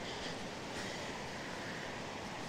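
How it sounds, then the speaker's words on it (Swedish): A small brook babbles down toward the Indalsälven river, a steady broadband rush of flowing water that holds even and continuous with no voices over it. "Det porlar."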